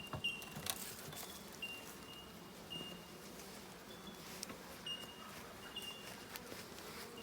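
Honeybees hum from an opened beehive built from a split with three frames, a faint, steady buzzing drone with occasional louder passes of single bees close by, and no talking over it.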